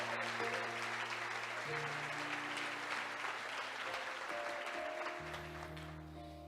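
Church congregation applauding during a sermon, a broad, sustained wash of clapping at moderate distance that fades slightly toward the end, with faint sustained tones from instruments underneath.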